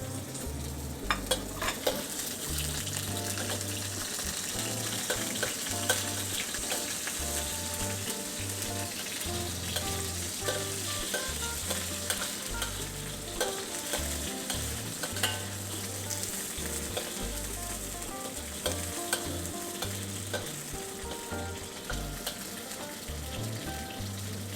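Garlic and prawns stir-fried for Penang char koay teow in a hot pan, a steady close sizzle and hiss with repeated rhythmic scraping and tossing of the wok, no talking.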